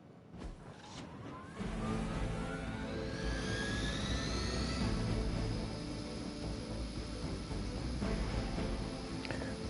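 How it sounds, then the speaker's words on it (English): Hydra helicopter engine in the Marvel's Midnight Suns video game, a loud, steady roar with a rising whine that holds continuously throughout. "Disable the Hydra helicopter before it can depart."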